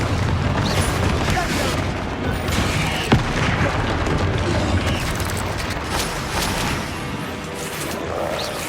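Repeated Confringo blasting-spell explosions in the video game Hogwarts Legacy make a dense, continuous roar of booms and crashes, with one sharper burst standing out, while voices call out spells over the din.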